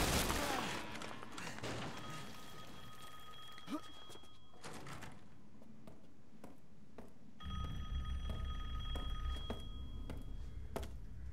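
An old telephone rings in Resident Evil Village, with repeated steady ring tones over a low ambient game backdrop that swells louder partway through, with occasional thumps and no speech.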